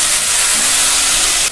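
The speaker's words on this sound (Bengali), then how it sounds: "সামান্য একটু জল দিয়ে দেবো যাতে মশলাটা পোড়া না লেগে যায়।" Water hits hot frying spices in a pan and releases a loud, continuous hissing burst of steam that holds evenly before dropping off abruptly at the end, with no talk.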